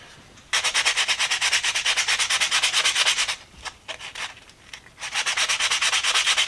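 Sandpaper rubbing back and forth on a Stanley Sweetheart tool handle during a hand tool restoration, close, loud rhythmic strokes in a long run, a short break with light scuffs, then another steady run.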